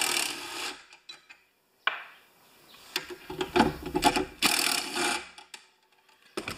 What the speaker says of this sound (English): Let's just spin these nuts off.